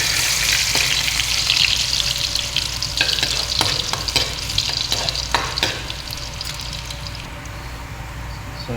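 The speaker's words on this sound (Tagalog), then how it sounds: "gigisa ko lang po at gigisa po natin itong pinagmarinitan" Garlic sautés in oil in a pan with a steady, close sizzle, and occasional clinks and stirring scrapes come through over the frying.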